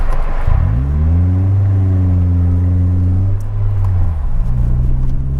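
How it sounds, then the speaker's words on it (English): Exhaust of a 2004 Toyota Celica GT, a loud, close rev that climbs, holds a smooth droning tone, then drops back toward idle and rises again briefly. "That exhaust has a nice tone to it."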